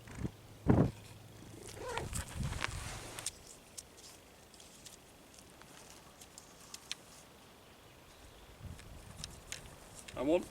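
A cat purrs close by at an outdoor roundpole fence build, a soft, steady low rumble under brief knocks and shuffling at the start and end.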